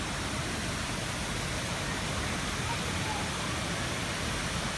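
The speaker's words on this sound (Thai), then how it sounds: "ก็จะมีน้ำตกนะฮะ" Steady broadband rush of a waterfall at the dragon park in Suphan Buri, Thailand, close and continuous throughout without a break.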